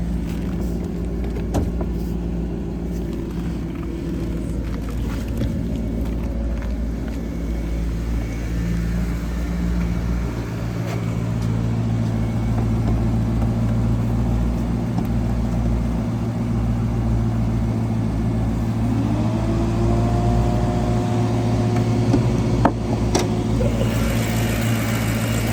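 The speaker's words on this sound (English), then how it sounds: "Nice Ferrari engine." A 2014 Maserati GranTurismo Sport's Ferrari-built engine runs close by with the hood open, a deep, steady idle that swells slightly in the latter half, with no talking over it.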